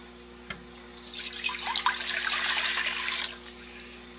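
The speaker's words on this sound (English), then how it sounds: "So the first thing we're going to do is we're going to put our water in." Water pours from a tap into a deep soup pot, a steady splashing rush that swells and then tapers off after a few seconds, close by with no talking.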